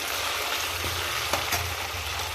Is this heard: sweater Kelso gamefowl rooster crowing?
no